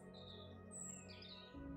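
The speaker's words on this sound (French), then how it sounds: "Tu entends les oiseaux" Faint birds chirp and tweet in a sunlit forest, soft high calls drifting over a quiet, steady ambient bed of meditation ambience with no talking.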